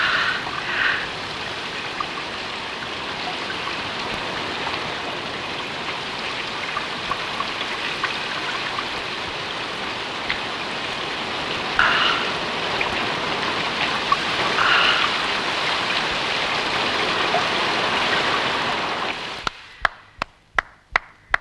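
Steady rain falls in a dense, even hiss for most of the stretch, fairly loud and unbroken, then fades into a few sharp knocks at the close.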